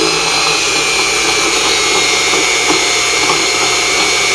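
A Unimat SL1000 small hobby lathe cuts rebar in a steady, loud, continuous mechanical whine with harsh rough grinding from the tool hitting slag inclusions.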